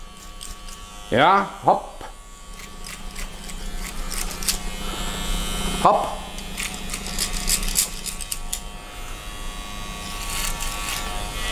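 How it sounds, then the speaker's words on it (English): Electric hair clipper buzzing steadily as it cuts hair over a comb during a flat-top haircut, a close continuous drone running throughout, with a man's brief vocal calls near the start and middle. "your clipper might slide over the comb without taking hair off"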